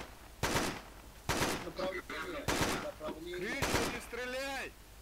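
Gunfire in the ARMA 3 military video game: four loud, sharp shots spaced about a second apart, each with a short decay, while a person talks between and over the shots.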